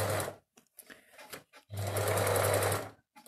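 A sewing machine stitching in short bursts, a loud close whirring rattle that starts and stops several times, with one longer steady run in the middle.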